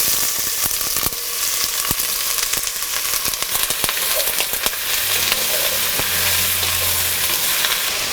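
Chopped onion dropped into hot coconut oil for a duck roast, sizzling loudly and steadily at close range, with scattered clicks and scrapes of stirring throughout.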